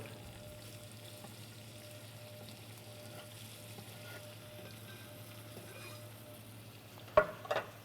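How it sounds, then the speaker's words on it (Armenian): Onion sizzling in hot oil in a home kitchen pan, a faint steady frying hiss with a low background hum, ending in a couple of sharp clatters near the close. "ձեթը դաղվեց, ավելացնենք սոխը"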